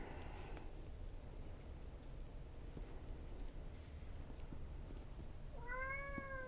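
A single drawn-out cat meow near the end, clear and fairly close, after several seconds of low rumbling background noise.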